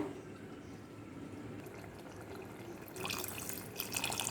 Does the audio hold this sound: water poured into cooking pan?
yes